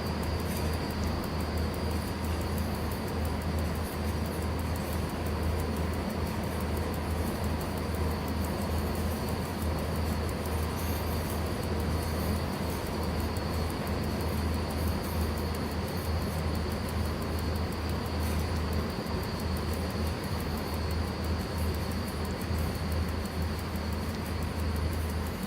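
A freight train in the Simrail simulator rolls along with a steady low rumble and constant mechanical drone, an even, unbroken running noise heard alone for the whole stretch with no distinct braking events standing out.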